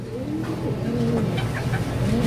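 Pigeons or similar birds coo and cluck nearby in a low, soft, rhythmic murmur, with a couple of brief higher chirps near the end; no talk is heard.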